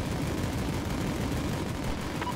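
Dense gunfire and explosions from the military strategy video game Forward Defense, a continuous loud barrage of rapid shots with heavy rumbling blasts throughout.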